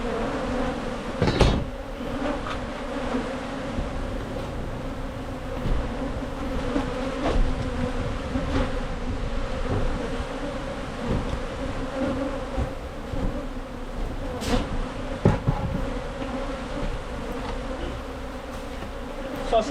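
Wild bees swarming in a hive built inside an old wooden chest of drawers in Trinidad and Tobago, a dense, steady buzz filling the whole stretch, with a few sharp knocks and thumps from handling the drawers and frames.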